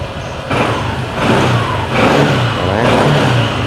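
Honda ADV 150i scooter from 2020 with its original stock exhaust, engine revved up close with the throttle in several rising surges, loud and continuous, with no talk.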